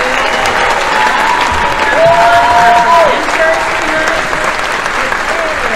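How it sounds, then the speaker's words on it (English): Audience applause for the presenters at an annual showcase event, steady loud clapping with some cheering and a voice or whistle-like tones rising briefly over the crowd. "can we get a big round of applause for the presenters tonight?"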